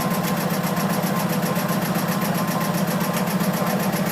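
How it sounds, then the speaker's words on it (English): The inboard engine of a Shannon 28 cutter-rig sailboat runs steadily with its alternator charging, giving a loud, even, rapid mechanical chatter with a constant low hum and no pauses. "with the engine and alternator running"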